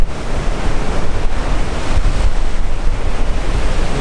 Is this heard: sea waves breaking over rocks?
yes